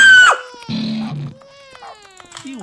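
A baby in the video game The Stanley Parable cries in loud, wavering wails with short breaks between them, close and clear, with no talk over it.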